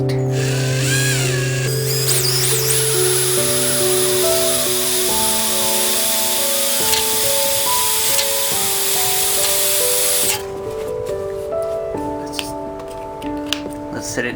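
A power drill spins wire to form chain mail rings for a leather bracer, a steady loud whine with layered tones running for about ten seconds, then cutting to a quieter, scratchier tail.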